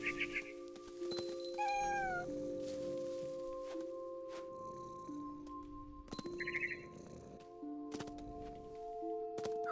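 A cat meows in the video game What Remains of Edith Finch, with a few short meows over a steady hum of game ambience, tonal pings and clatter. No one speaks.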